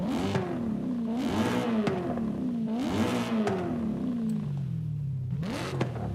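A naturally aspirated car engine in the video game Forza Horizon 5 revs repeatedly, rising and falling in pitch in a series of loud, growling pulls with a buzzy exhaust tone.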